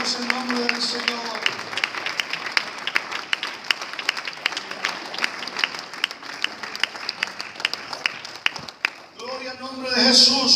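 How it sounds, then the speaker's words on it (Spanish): A church congregation claps together in sustained, crisp applause for about ten seconds, with voices heard at the start and a swell of cheering and voices near the end. "Aplaudamos el nombre del Señor."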